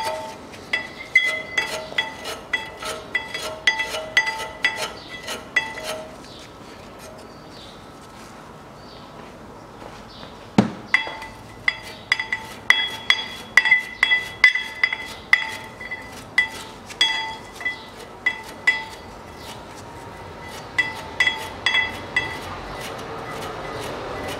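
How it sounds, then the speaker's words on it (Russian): Metal tool scraping and clinking while cleaning the brake pad slots in the front caliper bracket of a 2013 Skoda Octavia 1.8 turbo; repeated close, light metallic taps and scrapes in irregular bursts, no talking. "Немножко почищу места, где ходят колодки в скобах."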